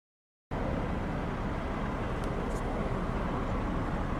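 A 1996 Mercedes E300 diesel with the OM606 engine driving along, heard from inside as a steady, even broadband road and engine rumble at moderate level after a brief silent start, with no talking.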